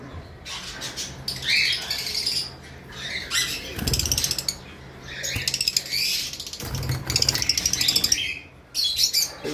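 Two green Fischer's lovebirds squawk and chatter sharply nearby in bursts, with wing flutters and scuffling between the shrill calls and no speech.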